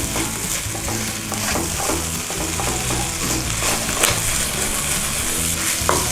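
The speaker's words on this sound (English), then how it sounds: "Give that a stir around." Kimchi fried rice stirred in a hot pan, with a steady, loud sizzle and the scrape of a utensil across the pan running throughout, no voices.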